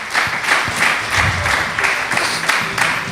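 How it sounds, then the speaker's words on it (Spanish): A church congregation applauds, a lively patter of many hands with slightly rhythmic surges that holds at a constant level throughout. "dale un aplauso al Señor si se lo quiere dar"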